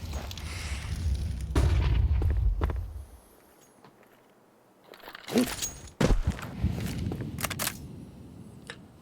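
Grenade explosions in a Counter-Strike pro match on the Anubis map, with a heavy rumbling blast, a quiet lull, then sharp bangs and crackling debris close by.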